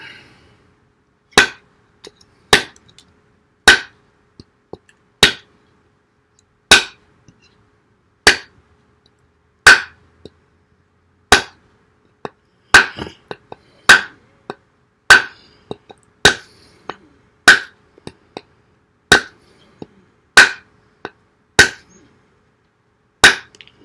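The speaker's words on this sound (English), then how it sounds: "And see how it does on chopping." Sharp, regular chopping strikes of a short knife blade (CJRB Ruffian) into wood, about one every second, each a crisp close thwack with quiet between.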